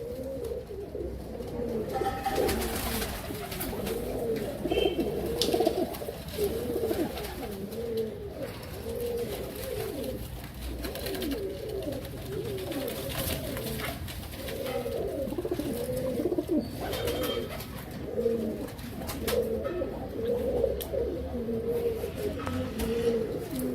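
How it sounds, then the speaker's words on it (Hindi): Pigeons coo continuously, several birds making soft, throaty, rolling calls that overlap close by, with occasional flutters and rustling. "ये दोस्तों मेरे कबूतर हैं।"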